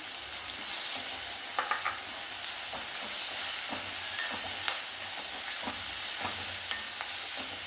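Ginger garlic paste sizzles and crackles in a hot pan for mutton chukka, a steady frying hiss with occasional pops and stirring clicks, no voices.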